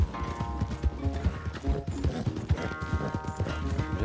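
A horse carries its rider in Red Dead Redemption, hooves clip-clopping in a steady, fast rhythm close by, with tonal ambient music and a brief whinny-like tone riding over the pounding gait.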